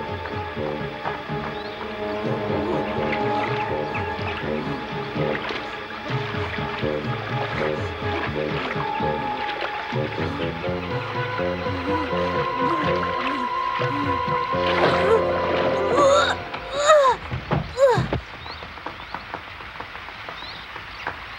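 Rowing on a river in a cartoon: a steady run of creaking, knocking oar strokes with ratchet-like wooden clicks, growing busier with splashes and sharp knocks toward the end.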